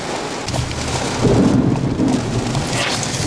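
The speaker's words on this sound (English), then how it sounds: "Thunder is like super loud." Heavy rain pours steadily on a vehicle during a thunderstorm in Columbus while a deep, rumbling roll of thunder swells loudly in the middle and fades.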